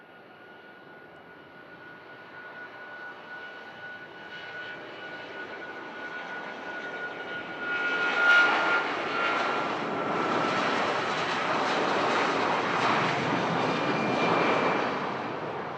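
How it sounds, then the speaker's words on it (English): A Virgin Atlantic airliner departs Manchester Airport, its jet engines a distant whine and rumble that build into a loud, broad roar about halfway through and stay strong to the end. "we'll read the rest out as soon as this Virgin Atlantic departs"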